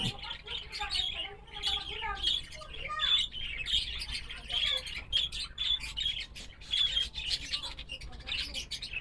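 Pet parakeets in a plain backyard cage chirp and squawk in quick, overlapping bursts, bright and close, with a person's voice faintly underneath.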